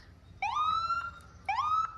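An ambulance siren in a small-town Christmas parade, two rising wails in quick succession, clear and fairly close, with no talk over it.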